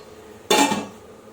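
A metal lid set onto a pot of cooking khichdi, one sharp clanking clink followed by a brief ringing rattle as it settles, close and isolated.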